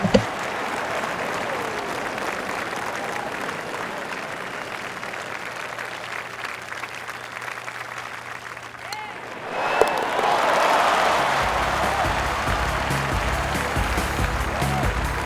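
A golf gallery at TPC Scottsdale applauds after a birdie, the clapping and cheering swelling loudly in the second half of the clip while a commentator talks over it.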